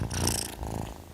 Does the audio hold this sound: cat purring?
yes